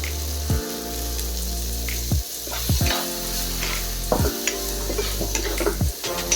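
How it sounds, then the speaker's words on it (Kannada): Spices for a village-style chicken curry fry with salt and turmeric in a hot pan: a steady loud sizzle broken every second or two by the scrape of stirring. "ಎಲ್ಲ ಹಾಕೊಂಡು ಚೆನ್ನಾಗಿ ಫ್ರೈ ಮಾಡ್ಕೊಳ್ಳೋಣ ಈಗ"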